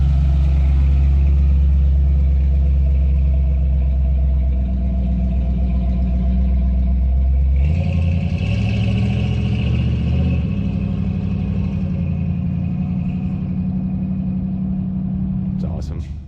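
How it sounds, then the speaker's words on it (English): A car engine idling after an Aces fuel injection master kit install, a steady deep rumble with a smooth even idle, close and loud, with a slight shift in tone partway through. "God, it runs so much better. It's idling at about 960."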